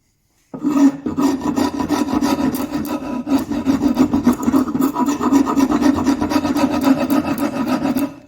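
A hand rasp or file shapes the neck of an oak or beech board after bandsaw cutting, producing a close, loud run of fast, gritty scraping strokes in a steady rhythm after a brief silence.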